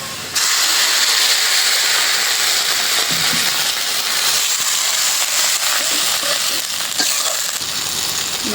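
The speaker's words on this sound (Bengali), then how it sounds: "এখন মশলা কষানোর জন্য একটু পানি দিয়ে দিই" Loud, sustained sizzling hiss as water hits frying spices in a hot pan, steady for several seconds with occasional crackles and no talking.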